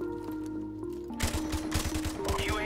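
A newly tried weapon with heavy recoil fires in Call of Duty: Modern Warfare Remastered, a fast run of evenly spaced shots starting partway through over a steady droning game background.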